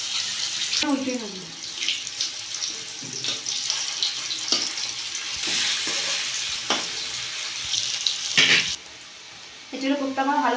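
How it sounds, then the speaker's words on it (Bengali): Jackfruit kofta balls frying in oil in a pan, a continuous bubbling sizzle with clatters of stirring and brief bursts of talk over it. "এগুলো কোপ্তা আমার ভালো করে ভাজা হয়ে গেছে,"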